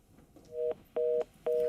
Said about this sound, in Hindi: ठीक है, फोन डिस्कनेक्ट हो गया।